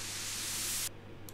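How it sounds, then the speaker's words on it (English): White noise sweep-up riser built in Ableton for a future bounce build-up, a loud bright hiss swelling steadily before cutting off abruptly, followed by a faint brief tail. "now we need a little like white noise sweep up thing."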